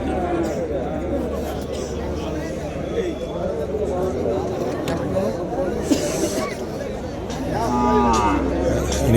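Calves moo among other livestock at the Madrapalli cattle market, with a few lowing calls rising over a constant hubbub of nearby people talking.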